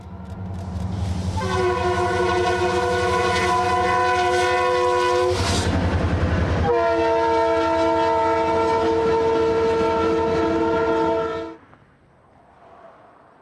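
CPKC track evaluation train 2227 rumbles past close by a large sawmill in Ada, sounding a long, loud horn blast with a short break, then the noise drops off as it moves away.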